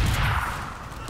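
Video game gunfire, a burst of loud overlapping shots in a shooter, dense and close for about a second, with no talking over it.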